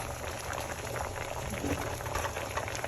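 A pot of sweetcorn boils on the stove, giving a dense, continuous bubbling and gurgling at close range, steady throughout with no talking.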